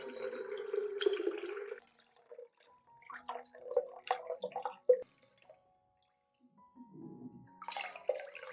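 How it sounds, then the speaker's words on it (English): Mandarin residue is strained out, leaving its liquid to drip and trickle in short, quiet bursts separated by pauses, close by and alone. "I also strain out the mandarin residue, keeping only the nutrient-rich liquid"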